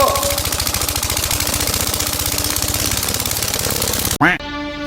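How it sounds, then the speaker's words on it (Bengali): A shallow irrigation pump engine runs with a steady, loud, rapid knocking chug that fills the whole clip, then cuts off abruptly near the end as a brief swooping sound follows. "স্যালো মেশিন স্টার্ট ধরাচ্ছে ধরে গেছে"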